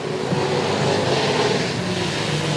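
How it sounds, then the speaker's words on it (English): Race cars on the Sauble Speedway oval roar past at speed during a dash for cash event, a loud steady engine drone without voices. "Just past halfway, Parker gets away. We're racing"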